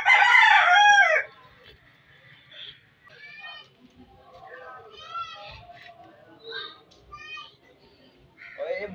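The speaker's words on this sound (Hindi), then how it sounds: "दोनों मुर्गी बस खा रही है" Two hens cluck as they feed on onions and flour, with a loud crow-like call at the start followed by scattered, moderately close clucks and squawks.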